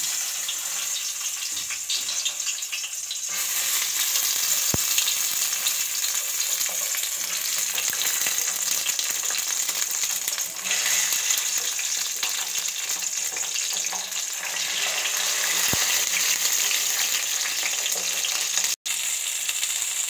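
Green tomatoes fry in oil in a kadai with a continuous loud crackling sizzle. A couple of light utensil taps are heard, and no one speaks.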